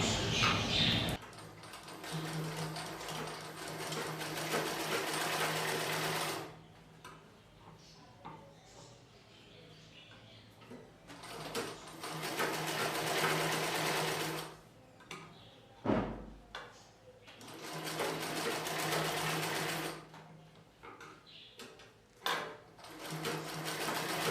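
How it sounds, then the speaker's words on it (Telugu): A sewing machine stitches a folded blouse piece in bursts of steady, close whirring, with pauses between runs and a few light clicks and knocks from handling. "ఈ పీస్ని లోపల వైపునకి ఫోల్డ్ చేసి పై వైపున కుట్టు వేసుకోవాలి"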